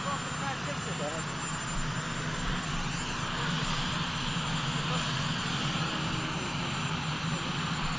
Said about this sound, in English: A little louder, helicopter, a lot of noise.